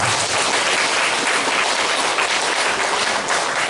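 A church congregation applauds in thanks and encouragement, a thick, even wash of clapping that fills the room at constant loudness throughout.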